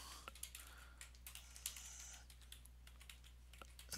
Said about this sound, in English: Enter in the password.